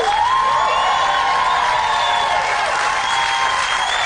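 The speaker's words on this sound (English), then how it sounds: "one of the biggest applause that we've had for a housemate this series" A large television studio audience on Big Brother applauds and cheers loudly and continuously, with whoops rising over steady clapping.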